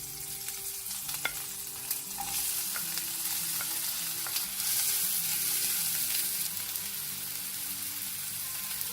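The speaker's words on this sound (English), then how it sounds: "Once the jeera splutters, add the green chili and chopped onion." Green chili and chopped onion hit hot oil with spluttering cumin, giving a steady, close sizzle with stirring scrapes and a few sharp pops throughout, no voices.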